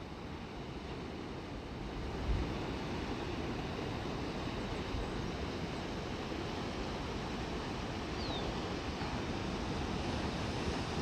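Ocean waves breaking on the shore at low tide at Estero Bluffs State Park, a steady, distant surf roar mixed with wind noise, continuous and even throughout with no voices.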